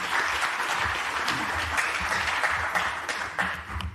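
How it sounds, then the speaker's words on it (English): An audience at a food safety forum in Vienna gives a speaker steady, warm applause, a dense wash of many hands clapping continuously at moderate distance, with no voices on top. "a warm round of applause for Hans"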